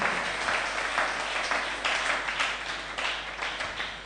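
A church congregation applauds during a Sunday service, with sustained, dense clapping from many hands that swells and fades in waves.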